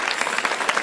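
A short burst of applause from a crowd, steady and dense hand clapping throughout.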